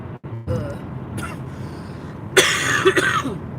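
Someone sick for over a week coughs unproductively in a moving car, a couple of close, harsh coughs and throat clearing rising over the low road rumble.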